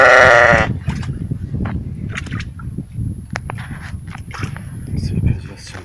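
A sheep suffering from heat exhaustion bleats once loudly at the start, followed by shuffling and scraping movement sounds while a shepherd talks nearby.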